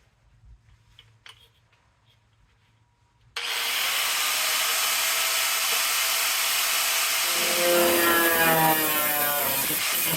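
A power tool cuts through rusted car body metal, starting abruptly after a quiet stretch and running as a loud, steady grinding whine that wavers slightly toward the end.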